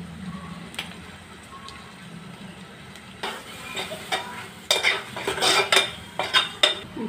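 Yam pieces dropped into a hot pan and stirred with a metal spoon: soft sizzling underneath, then a run of sharp clinks and scrapes of utensil against pan that grow louder toward the end.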